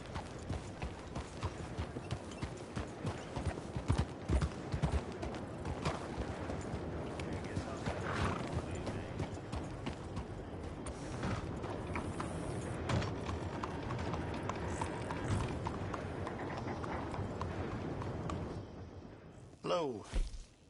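A horse's hooves clip-clop steadily and close up over a long stretch, mixed with creaking, rattling tack and mechanical clatter, with people talking over it and a brief quieter moment near the end.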